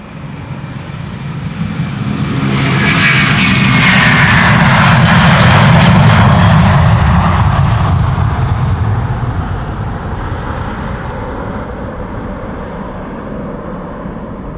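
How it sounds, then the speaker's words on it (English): A Delta Air Lines Airbus A330-300 jet passes at Schiphol Airport, its loud engine roar building to a broad peak and then fading away, heard alone without talking. "Next up, Delta Airlines flight 179 going to Portland, Oregon, A330-300."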